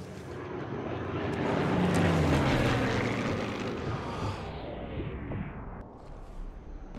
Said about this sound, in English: That plane went by so fast I didn't even have a time to shoot.